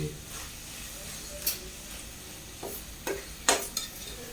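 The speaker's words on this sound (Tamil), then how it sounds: "இந்த வெங்காயம் வதங்குறதுல இதாக இருக்கு" Onions sautéing in a pan while cooking a tamarind curry with chickpeas and peanuts: a faint, steady sizzle broken by a few soft scraping stirs, close by and quiet.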